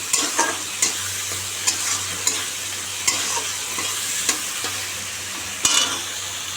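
Fish sizzles and fries in a hot pan, a steady crackling hiss broken by sharp scraping stirs of a utensil every second or so, close and with no talk.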